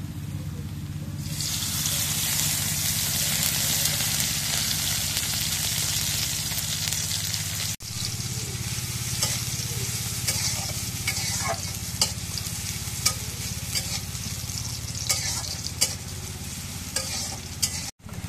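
Oil goes into a hot pan and starts a loud, continuous sizzling hiss that rises after a moment and holds steady, with occasional stirring clicks and scrapes.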